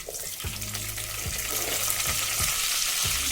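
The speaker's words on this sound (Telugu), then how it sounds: "ఇప్పుడు ఇందులో జీలకర్ర, ఆవాలు, జీలకర్ర కొద్దిగా ఫ్రై అయింది" Cumin and mustard seeds fry in hot oil for a tomato pickle tempering, giving a dense, steady sizzle with a few soft clinks of stirring, close and continuous with no talk.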